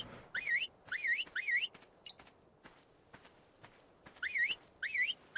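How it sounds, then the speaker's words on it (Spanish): Whistle used to call a tamed creature in the game Ark: short rising-falling whistle phrases in two groups, three then two, with soft footsteps in between, no talking. "Creo que no llego con el silbido"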